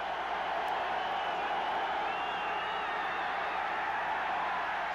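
Exuberant football crowd in the end zone of a stadium during a 1989 Falcons at Packers NFL game, a dense, sustained roar of cheering fans, loud and continuous without a break.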